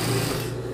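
Sewing machine stitching a seam on jeans, a steady continuous motor hum with rapid needle chatter, close and fairly loud throughout the short stretch, with no talk.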